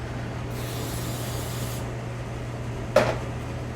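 A can of nonstick cooking spray hisses in a steady close burst of just over a second, followed by a faint background hum and a brief knock near the end.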